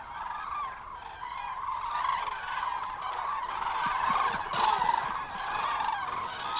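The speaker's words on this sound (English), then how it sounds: "Squadrons of cranes ply the skies in vigorous and sustained flight, constantly trumpeting." Common cranes wintering in the Iberian interior trumpet continuously, a dense chorus of loud, rolling bugling calls from many birds at once, with no talk over it.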